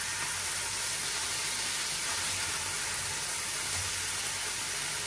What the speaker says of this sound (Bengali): এখন আবার পুঁটি মাছটি ভেজে নিতেছি